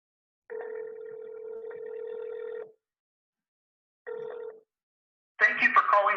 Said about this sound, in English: I'm going to put my phone on speaker and call US Senator Roy Blunt right now.